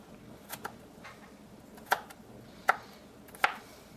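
A knife chops fresh garlic on a cutting board in a home kitchen, giving a few separate, crisp taps spaced about a second apart, faint and close against quiet room tone.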